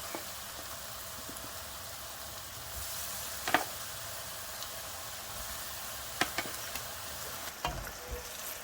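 Eggplant sizzles steadily in a hot pan, a continuous crackling hiss with a few sharper pops and spatters, and no talking.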